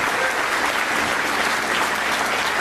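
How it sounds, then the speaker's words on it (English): Audience at the EMC Global Megalaunch event in New York gives loud, dense, continuous applause, close and steady throughout with no talking over it. "Clap for me because I need the applause."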